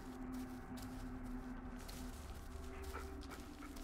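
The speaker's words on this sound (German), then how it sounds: "Da ist gerade der Hund." A dog whimpers and yips faintly in a foggy forest in the horror video game Blair Witch, with a low ambient hum underneath.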